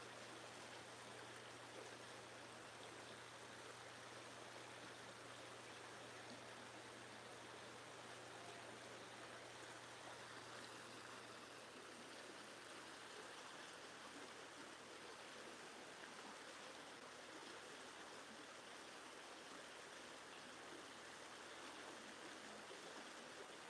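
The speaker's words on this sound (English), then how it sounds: "making its way down the river." A river flows steadily in a continuous, even rush of water, moderately distant and unchanging throughout, with no voices present.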